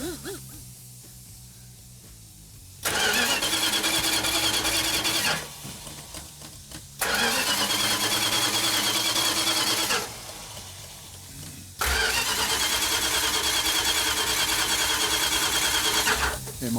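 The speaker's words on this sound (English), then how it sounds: "Mark, it's not firing." An old car engine being cranked over on a cold day without firing, with no fuel reaching it; three long, loud bursts of steady mechanical whirring, each lasting a few seconds, separated by short quiet pauses.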